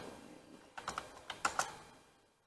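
Keys tap on a computer keyboard while a search term goes into a search box, a quick irregular run of close clicks in two short bursts over quiet room tone, with no talking.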